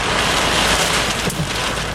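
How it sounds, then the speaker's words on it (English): Severe wind gusts and heavy rain buffet a car during a Florida storm, a dense, loud, continuous roar of rain hammering the surface and rushing wind, with no talk. "I'm getting some severe wind gusts."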